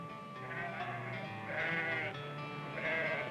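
Sheep bleat in the grassy Mackenzie highlands of New Zealand's South Island, two or three drawn-out wavering calls fairly close, one after another over a soft outdoor backdrop.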